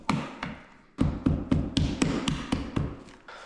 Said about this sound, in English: Like always, remove the rest with the chisel.